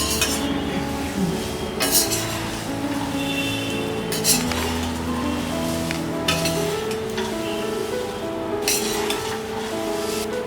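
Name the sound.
mixing sev into diet murmura bhel in a bowl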